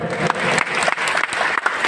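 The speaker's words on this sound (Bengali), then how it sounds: "একটু সকলে জোরে হাততালি দেবেন" Audience applause at an evening felicitation gathering where a scarf is being presented, a short burst of dense clapping heard up close, with a faint voice underneath.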